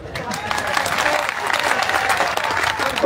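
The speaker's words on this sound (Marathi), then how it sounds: "बघा टाळ्या तरी वाजवले" Crowd clapping at a political rally, a dense, continuous burst of applause that builds slightly toward the end, with some voices mixed in.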